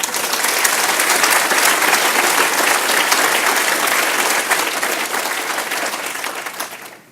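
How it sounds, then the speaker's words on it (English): A large audience at an innovator showcase session applauds after a presentation with dense, steady, loud clapping that holds for several seconds and then tapers off at the end, with no voices over it. "Your applause went a little long there, Sean."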